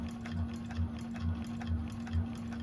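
A 1341 cylinder arm sewing machine stitches down a bag pocket in a steady, close mechanical whir with a rhythmic thump about twice per second, with no talking.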